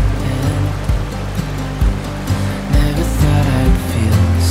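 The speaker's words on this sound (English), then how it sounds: "you can look down and see straight down to the river down below" A river flows far below a bridge in remote Shikoku, Japan, giving a steady, loud rush of water with deep low rumble throughout.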